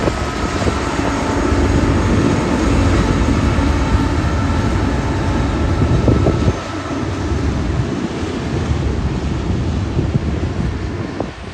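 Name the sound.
train coming out of a tunnel on the Oregon Trunk line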